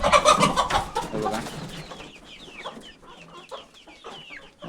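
Chickens on a small home poultry farm in Konkan, a burst of loud overlapping clucking up close, then scattered softer clucks and calls continuing over quieter ground noise.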